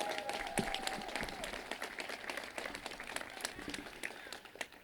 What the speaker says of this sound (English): Let's give Heather another round of applause.